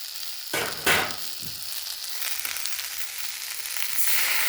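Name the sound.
spices and green chillies frying in pan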